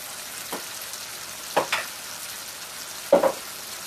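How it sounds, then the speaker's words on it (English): Food frying in a pan being stirred for a curry-house style dish, with soft steady sizzling broken by three scraping stir strokes, close and fairly quiet. "Give that a nice stir."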